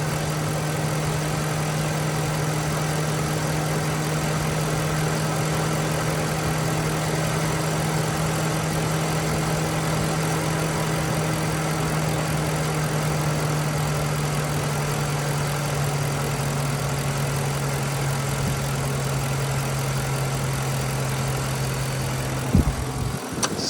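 A 2005 Lincoln Town Car Signature Series with 96,000 miles idles steadily, a smooth even hum with a constant low tone, heard alone until a brief knock at the very end.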